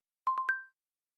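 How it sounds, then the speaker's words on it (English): A phone gives a short, clean electronic ring of three quick tones, the last one slightly higher and held a moment before it stops, heard alone and close. "This is a phone."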